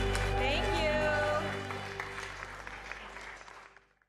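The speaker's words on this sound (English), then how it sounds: "a big round of applause to everybody who's a part of the Hapa movement" Applause from a city council meeting audience, a dense burst of clapping that starts loud and tapers off over a few seconds, with a brief bit of tonal sound early on.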